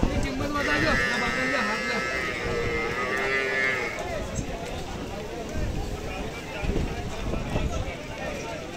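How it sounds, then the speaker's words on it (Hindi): Water buffalo from Jalore district lowing at the Depalpur livestock market. A long, loud moo rises over a steady crowd murmur, and voices and animal noise carry on after it. "जालौर जिले की भैंस देख रहे हैं आप।"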